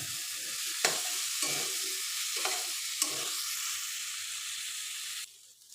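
Pieces of chitol pitha rice cake are stir-fried in a spicy masala in a pan, giving a steady, close sizzle broken by a few sharp spatula scrapes and knocks. The frying drops abruptly to a quieter hiss near the end.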